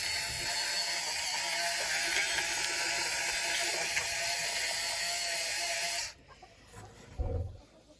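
An electric feather plucker for geese and ducks whirs with a steady, loud mechanical rattle for about six seconds, then cuts off abruptly, leaving a quiet room with a brief thump.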